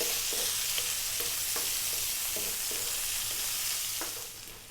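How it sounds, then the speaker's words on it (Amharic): Onions and garlic fry in oil in a pan, a steady close sizzle broken by regular rhythmic scraping strokes of stirring, easing slightly toward the end. "ነጭ ሽንኩርት እንጠብሳለን ለ3 ደቂቃ።"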